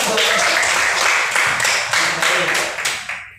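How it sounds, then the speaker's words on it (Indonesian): Students clapping in a classroom, a short burst of applause with audible individual claps that thins out and fades in the final half second. "Tepuk tangan juga"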